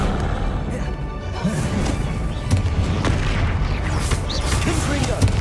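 Spell blasts from the Bombarda blasting charm in Hogwarts Legacy boom again and again, heavy crashing bursts over a dense low rumble of combat, with voices shouting beneath.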